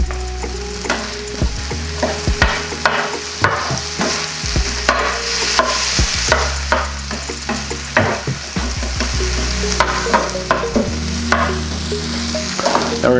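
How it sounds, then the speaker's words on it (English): Green onions fry on a 22-inch Blackstone E-Series griddle, with a steady sizzle and repeated sharp scraping and tapping of a spatula against the flat top, close and loud, no voices. "let's get green onions in there"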